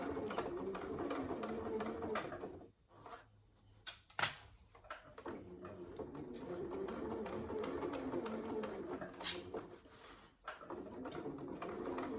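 A sewing machine runs through layered fabric on a saddle bag, a quiet steady whir close by, broken by brief pauses and a few clicks and bumps.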